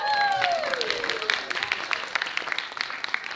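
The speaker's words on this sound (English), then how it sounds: "So a big round of applause for everyone" Audience applause for singing contestants at a singing competition's finals, moderately loud and steady throughout, with a brief voice and a sliding tone at the start.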